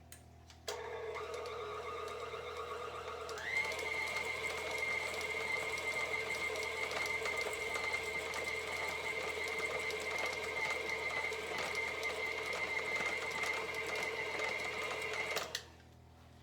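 A food processor runs on shortbread cookie dough, a steady close whirring motor that rises in pitch after a few seconds, holds evenly, then cuts off abruptly near the end; no talking.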